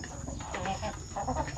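Soft clucking from a Basilan chicken, several short bursts over a steady background murmur, fairly close.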